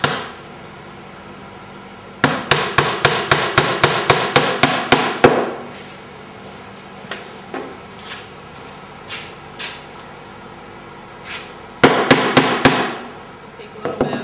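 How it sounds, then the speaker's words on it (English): A hammer taps finishing nails into wooden molding on a faux antique door: a fast run of about a dozen sharp, evenly spaced blows, a pause with a few lighter knocks, then another quick burst, close and loud. "just tap one finishing nail into each molding and pound it underneath the surface of the wood"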